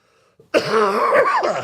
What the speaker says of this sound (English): that cough really hurt